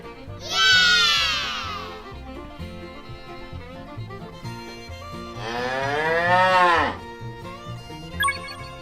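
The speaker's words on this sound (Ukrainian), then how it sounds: "Корова" A cow gives two long, drawn-out moos, loud and near, over a light background of soft music.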